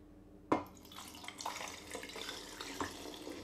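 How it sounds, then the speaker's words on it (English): Homemade red wine film developer is poured from a coffee cup into a film canister, a soft liquid trickle starting with a sharp knock and followed by a few faint splashes. "I'm going to go ahead and pour the developer into the canister now"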